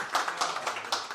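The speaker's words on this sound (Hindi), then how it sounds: "आज के दूल्हा मोहतरम जनाब वाजिद अमीर साहब, भरपूर तालियों में इस्तकबाल कीजिए।" Steady clapping from a mushaira poetry gathering audience, a dense patter of hands with no break, at moderate volume.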